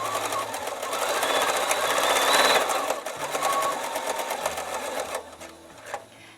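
A B880 sewing machine stitching steadily, its needle driven by a foot pedal in a fast even chatter that runs loud and continuous before slowing and stopping near the end.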